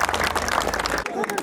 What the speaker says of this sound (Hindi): एक बार और ठोको ताली।